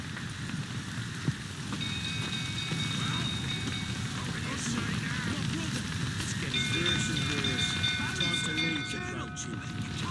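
Steady rain falls in The Witcher 3: Wild Hunt as a continuous soft patter, with a low game music bed and a few faint tones, while people talk quietly over it throughout.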